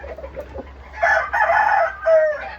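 A wine red kelso rooster, a breeding gamecock, crows loudly and close by, one drawn-out cock-a-doodle-doo after some soft clucking.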